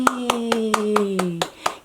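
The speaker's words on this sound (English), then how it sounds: "Can you clap with me?" A single person claps in a steady rhythm, about eight crisp claps close up, while a voice holds a sung or spoken tone over the first several beats.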